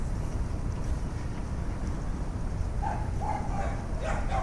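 Several dogs bark behind a fence, a few short yips and woofs at a moderate distance from about midway on, over steady outdoor wind and background rumble.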